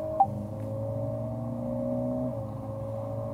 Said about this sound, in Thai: อันนี้เสียงรถแข่งอ่ะฟังเสียงสปอร์ต